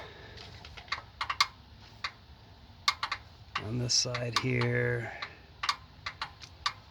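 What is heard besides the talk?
engine valve lifter clicking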